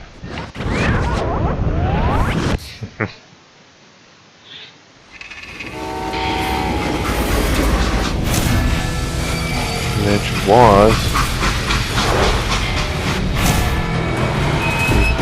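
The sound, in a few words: steam train running in Call of Juarez: Gunslinger video game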